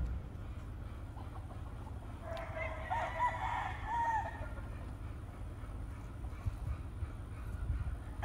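A rooster crows in the distance around the middle, over a steady low rumble of outdoor background noise in remote countryside.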